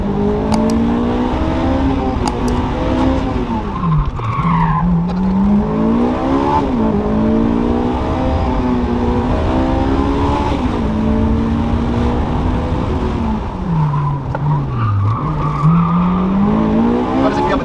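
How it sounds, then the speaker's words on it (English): A Honda S2000 with a Q300 exhaust driven hard on Swiss mountain roads, its loud engine droning and revving up and down through corners close by, with no voices over it. "The Q300 exhaust makes a little bit more horsepower than the other exhausts, but it makes a lot of noise."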